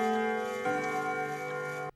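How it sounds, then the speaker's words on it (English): A grandfather clock chimes in a stock sound effect, a clear sustained bell tone that strikes again partway through and rings steadily before cutting off abruptly. "The same grandfather clock chiming sound effects that they use in the Nancy Drew games"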